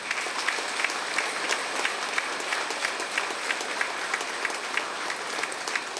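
Audience applause at a Tamil student honouring ceremony, a steady wash of many hands clapping with slight rhythmic peaks, heard from some distance and fairly quiet, with no talk over it.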